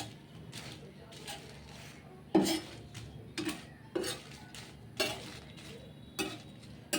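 Dried chilies dry-roasting in a pan for chili flakes, stirred with a utensil that gives sharp scraping clicks against the metal at irregular intervals over a faint soft crackle, fairly quiet and close.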